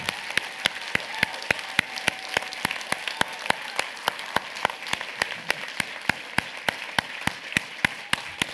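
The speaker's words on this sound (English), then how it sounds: "I want you to clap to honor God and his word and do it better than that." Congregation at a church sermon clapping in a steady, even rhythm, sharp individual claps repeating about three times a second, close and distinct with no talk.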